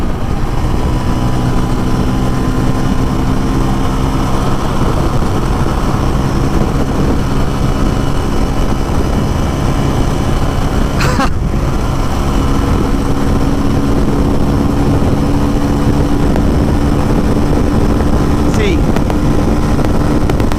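A 2024 Bajaj Pulsar N250 motorcycle revving near 8800 rpm at about 140 on a windy highway: a loud, unbroken engine drone mixed with heavy wind roar that stays steady throughout.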